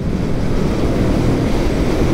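A 2022 Moto Morini Seiemmezzo motorcycle, STR or SCR, is ridden while shifting up through the gears, its engine a loud, continuous low roar mixed with heavy wind rush and no clear breaks.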